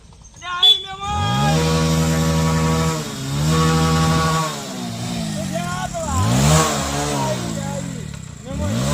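A motorbike engine revs close by in a village, several sustained rev bursts that rise, hold and dip in pitch with short gaps between, loud and buzzing throughout.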